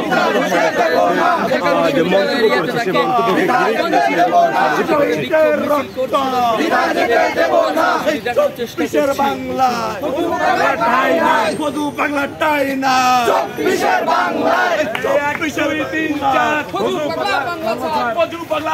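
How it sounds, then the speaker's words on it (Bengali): A large crowd of Dhaka University students on a protest march chants in loud, continuous rhythmic unison, voices overlapping into a dense, shouting wall of sound with no pauses. "বিক্ষোভ মিছিল করছে ঢাকা বিশ্ববিদ্যালয় শিক্ষার্থীরা"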